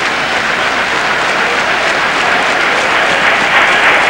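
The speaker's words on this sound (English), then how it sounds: "Rhythmic clapping all the way around the stadium," A stadium crowd at the 1983 Zurich athletics meet claps during a 1500 m race, a loud, continuous roar of clapping and crowd noise filling the arena, with no separate beats standing out.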